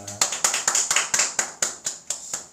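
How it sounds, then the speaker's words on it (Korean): Rhythmic unison clapping by a church congregation at the close of a worship service, about a dozen evenly spaced sharp claps, fairly close and clear. "우리 예배를 받으신 하나님께 영광의 박수 올리겠습니다"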